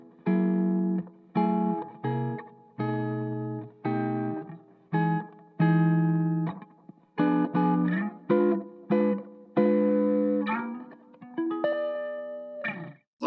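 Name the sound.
guitar through reverb effect on PolyEffects Beebo pedal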